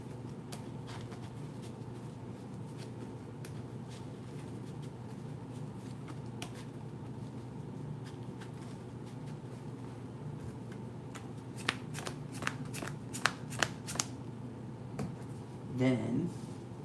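Deck of Magic: The Gathering cards shuffled during a Commander game, a quiet run of soft riffling flicks toward the end, partly under a constant background hum and low talk.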